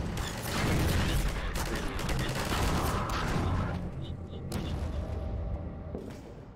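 Dense enemy gunfire and mechanical clatter fill a Half-Life 2 Episode firefight, a loud continuous rattle that eases slightly toward the end.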